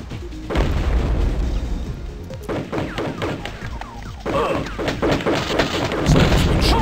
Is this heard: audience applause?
no